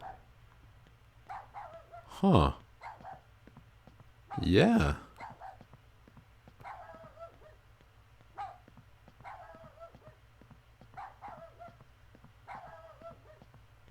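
A dog barks a couple of times in the Rule of Rose video game, two loud bursts standing out over a faint droning ambience, with softer game sounds scattered afterward and a brief spoken interjection.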